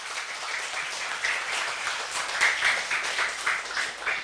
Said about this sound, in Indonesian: Boleh tepuk tangannya untuk Bapak Muhammad Soleh selaku Kepala Sekolah